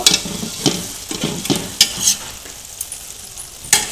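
Mutton dropped into frying spice paste in a pan, loud sizzling with several scraping stirs and clanks of a spoon spaced unevenly, the frying hiss easing toward the end.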